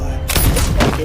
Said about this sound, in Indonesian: anggota Bunny yang menjadi sniper mulai menembaki para prajurit Rusia yang bermunculan